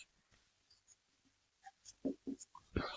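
A pen writes an answer by hand on paper, with faint soft scratching strokes that grow into a few louder short scribbles toward the end, close and quiet.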